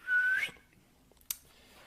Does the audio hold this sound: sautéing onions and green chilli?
no